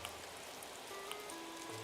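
Rain falls in the Animal Crossing video game as a soft, even patter, quiet and continuous, with faint sustained musical tones over it.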